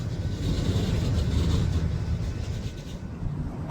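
Amtrak Crescent passenger train passing a railroad crossing, a steady loud low rumble with rolling wheel noise that holds throughout, close by and continuous with no voices.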